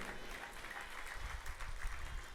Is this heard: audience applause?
yes